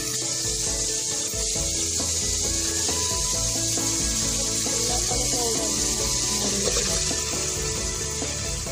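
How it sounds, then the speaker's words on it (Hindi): Hot oil sizzles and crackles steadily in a cooking pan, a continuous frying hiss with faint stirring scrapes, close up and without talk. "बस हम इसमें ऑयल डाल रहे हैं"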